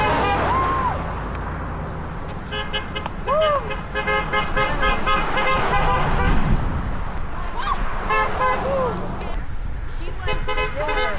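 Passing cars toot their horns repeatedly along a road in short honks and a few longer blasts, loud and near over steady traffic noise, while people cheer and talk throughout.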